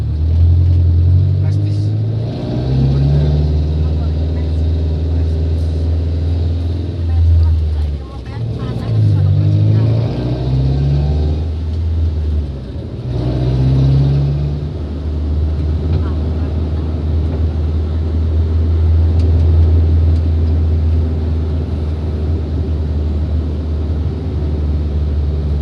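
A car engine idles with a steady low rumble, loud and close, near Pati in Central Java, while voices talk over it at intervals.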